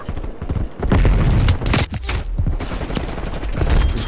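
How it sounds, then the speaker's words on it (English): Explosions and gunfire in a Black Ops Cold War Hardpoint match, a dense, loud run of booming blasts and rapid shots overlapping one another with no pauses. "This guy is just grenade launching every corner"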